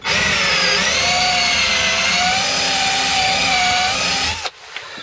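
A power drill whines loudly and continuously for several seconds, its pitch wavering slightly as it bites into wood, then cuts off abruptly.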